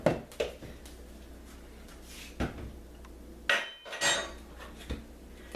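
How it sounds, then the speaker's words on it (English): A lid being fitted onto a container in a kitchen and set aside, heard as several sharp clatters and knocks of dishware, moderately close, with quiet gaps between the hits and no voices. "go ahead and put the lid on that and put it behind you"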